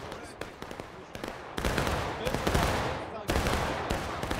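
Massed musket and artillery gunfire in War of Rights on the Garland's Stand map in a 300-player battle, with dense overlapping volleys and crackling shots in heavy bursts, loud and continuous with brief lulls.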